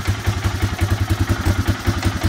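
A Honda Big Red 250 three-wheeler, an old barn find, idling close up with a rapid, even thumping pulse and slight clatter, loud and steady throughout.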